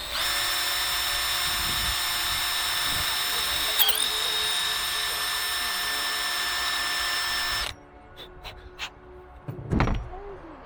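A power tool drives screws while a window is fitted on a narrowboat, a loud continuous whirring drone lasting about seven seconds that stops abruptly, followed by a few clicks and knocks.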